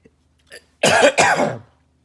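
A close, loud cough in two harsh bursts, preceded by a faint small throat sound.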